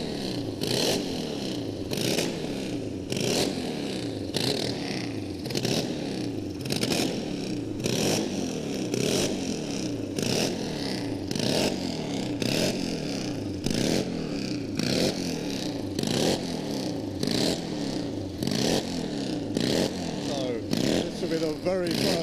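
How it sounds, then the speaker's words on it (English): A steam rocket bike at a drag strip gives off rough mechanical roaring and rattling in regular surging bursts, steady and moderately loud, while a commentator talks over it throughout. "He's just built himself a steam rocket bike."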